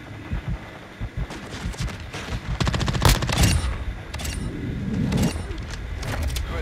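Enemy gunfire in Call of Duty: Modern Warfare II: rapid bursts of automatic shots crackle close and loud, with dense volleys building in the middle and continuing alongside scattered impacts and battle noise.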